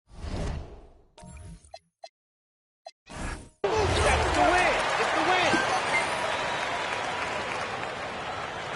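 Cheering arena crowd in an NBA 2K basketball game swells into sustained applause after a few short bursts of commentary and on-court sounds, filling the rest of the clip.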